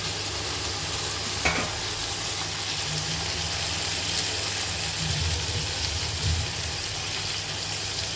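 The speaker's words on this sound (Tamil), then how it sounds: "தக்காளியை இதோடு சேர்த்து நல்லா வதக்கி விட்டுடுங்க." Tomatoes sautéing in a pan for mutton biryani give a steady soft sizzle with faint stirring scrapes, close and continuous for the whole stretch, with no talk.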